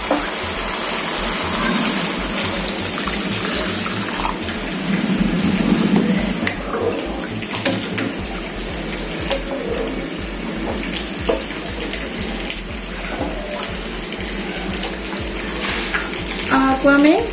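Water pours and gushes into a pan while a village-style fish curry with mustard and mango is cooked, a loud continuous splashing stream with cooking sizzle and clatter, briefly under a voice.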